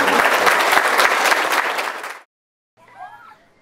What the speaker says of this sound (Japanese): どうぞ皆 さ ん大きな 拍手でお送りください。